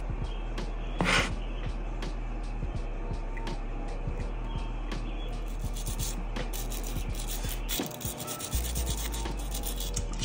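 Close, steady rubbing and scrubbing on a Browning Hi Power pistol part being polished with CLP gun cleaner, a run of short repeated strokes with a brief louder scrape near the start, no voices.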